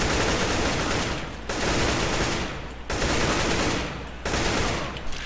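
An AK-47 automatic rifle fires in a video game in three long, loud sustained bursts separated by brief pauses, with rapid close shots and no talking.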